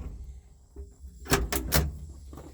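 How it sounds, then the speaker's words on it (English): A tractor cab door is opened, giving a soft latch click followed by a few sharp metallic clacks and a brief rattle as it swings. "This door opens too."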